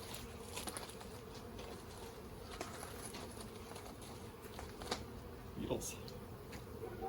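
Honey bees buzz in agitation around an urban hive, a faint steady drone with occasional closer passes of individual insects, no speech.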